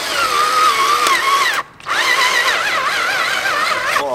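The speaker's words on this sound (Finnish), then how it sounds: "tehdään nyt täällä 8 millisellä nää reijät" A cordless drill with an 8 mm bit, its battery running low, bores a second hole at a vise bench. The motor whines steadily and close up, stops briefly, then spins up again.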